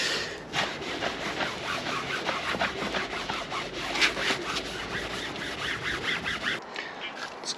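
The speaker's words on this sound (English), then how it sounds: "I'll work in just using the green cloth, leave it for 5 minutes and then scrub it" A green cloth rubbing Cif cream cleaner into a dinghy hull, close rhythmic back-and-forth scrubbing strokes, steady and fairly loud, stopping near the end.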